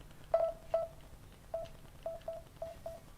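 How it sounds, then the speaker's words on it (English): A work phone sounds a run of short electronic notification tones, about seven quick beeps in an irregular rhythm, clear over quiet background. "I got messages coming through on my work phone"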